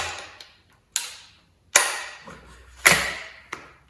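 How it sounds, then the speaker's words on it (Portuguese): Sharp mechanical clicks and thuds from a Weihrauch HW98 break-barrel air rifle as its safety catch is released, about five distinct close snaps spaced irregularly over a few seconds with a faint low hum beneath. "tirar a trava de segurança"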